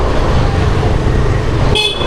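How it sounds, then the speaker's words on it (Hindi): A scooter horn gives a short bright toot near the end, over loud road and engine rumble from the moving scooter. "चाचू हॉर्न बजाओ"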